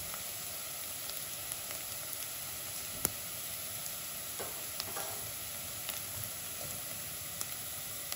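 Green masala hitting a hot pan of golden brown onions while cooking Goan coriander rice, a steady soft sizzle and faint frying hiss with occasional small crackles and stirring taps, close and fairly quiet, no talking.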